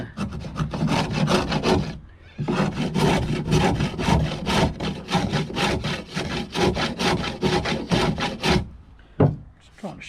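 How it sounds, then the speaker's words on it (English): An old hand plane shaving down a wooden part of a square drop camper build, giving repeated rhythmic rasping strokes, close and loud, with a brief pause after the first few passes. "So I'm just found my dad's old hand planer,"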